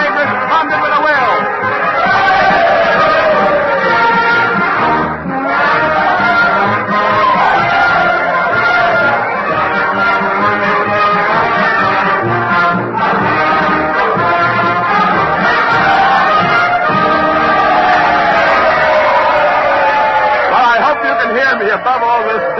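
A large crowd roars and cheers while a Union military band plays Dixie. The noise is loud and continuous, with brass melody woven through the babble of many voices.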